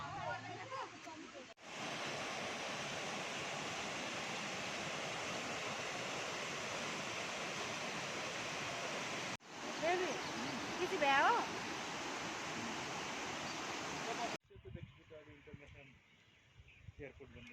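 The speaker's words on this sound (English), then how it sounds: "Davies Fall is a fascinating waterfall which drops into a cavernous gorge" Davies Fall, a waterfall plunging into a cavernous gorge, gives a loud, steady rushing roar of falling water heard close, broken by brief cuts and ending in quieter sound.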